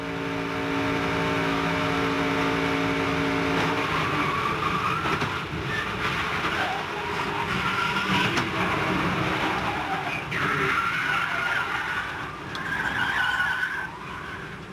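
Onboard a stock race car at full throttle during the 1998 Touchstone Energy 300, the engine drones loud and continuous with shifting rasp and surges, mixed with wind and chassis rumble, and no talk.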